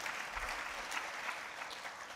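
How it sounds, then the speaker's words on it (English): Audience applause at a live talk, a steady wash of clapping from a crowd holding at an even level for the full stretch with no voices on top. "that's worth applause"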